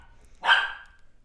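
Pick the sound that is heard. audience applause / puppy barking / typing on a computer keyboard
puppy barking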